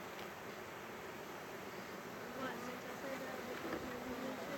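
A steady, dense buzzing of many honeybees sounding alarm fills the air continuously, a constant droning swarm with no pauses, fairly close and agitated.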